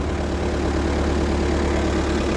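A tractor engine runs at a steady low idle near a creek bridge build site, a dense constant rumble with no change in rhythm and no talk.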